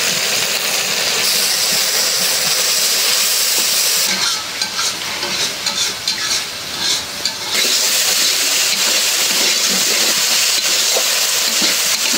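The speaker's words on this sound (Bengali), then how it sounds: "মশলাটা একদম ভালো করে কষাই নিলাম" Ground chilli, coriander and cumin frying in a pan for a vegetarian vegetable dish, heard as a loud, close sizzle with bursts of stirring and scraping in the middle and no voices.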